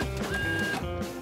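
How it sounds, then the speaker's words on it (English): A printer runs through a short printing job, its whirring feed mechanism buzzing and clicking close up, alone, with no voices. "Printer, do your thing."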